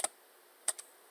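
Computer keyboard typing during sign-in, a few sharp isolated key clicks, one at the start and a close pair later, separated by near silence.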